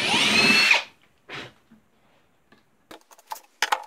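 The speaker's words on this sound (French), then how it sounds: "puis on va percer ça" A power drill bores through a part of a homemade wall lamp built from salvaged materials, a loud whirring burst of under a second up front, followed by a short second burst and scattered small clinks and taps.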